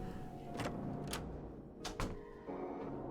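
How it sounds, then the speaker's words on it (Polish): A door is opened in a horror game set aboard a midnight train, with a few short scraping and clicking bursts over a quiet low rumble. "Otworzyłem drzwi."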